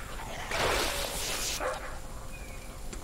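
A dog companion barks and yips during combat in the video game Neverwinter, a short burst of game barking over busy battle sounds and background noise.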